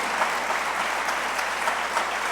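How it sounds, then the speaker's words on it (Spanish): A church congregation breaks into loud, dense applause, a continuous roar of many hands clapping together, close and steady throughout. "Dele fuerte el aplauso al Señor."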